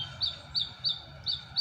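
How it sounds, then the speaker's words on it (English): Outdoor birds chirping in short, bright, regularly spaced calls, five in quick succession, fairly close over a faint low background hum. "You hear the birds?"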